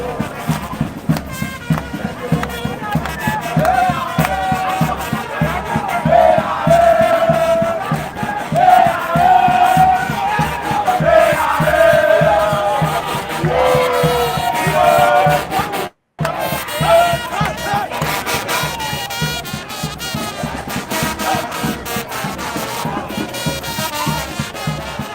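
A large crowd of mostly young supporters roars at the CDC nomination ceremony for President Weah's second-term bid: loud, dense crowd noise with rhythmic pulsing and voices chanting, broken by a brief dropout midway before the din resumes.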